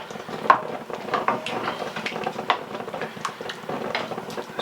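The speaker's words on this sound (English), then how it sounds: "Give it a little stir." A spoon scrapes and clinks against a pot of shrimp gumbo with sausage and chicken, making soft, irregular stirring knocks and rattles up close for a few seconds.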